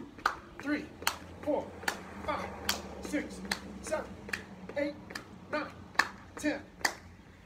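Sharp hand claps repeat in a steady rhythm during a clapping-jack workout, each one crisp and close, with a low hum and faint voices underneath.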